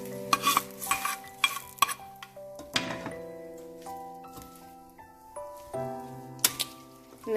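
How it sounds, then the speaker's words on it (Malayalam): Tempered mustard seeds are poured into cooked tapioca and stirred, giving soft scraping and stirring sounds with faint sizzles under a sustained musical tone. "എന്നിട്ട് നമുക്ക് ഈ പൊട്ടിച്ച കടുക് ഇതിനകത്തേക്ക് ഒഴിച്ചു കൊടുക്കാം."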